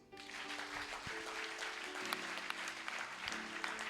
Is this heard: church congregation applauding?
yes